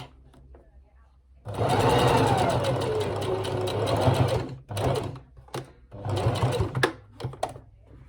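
A sewing machine stitches a pocket onto a doll's polka dot dress, running in two loud sustained bursts separated by brief pauses and short stops, close up with no talking.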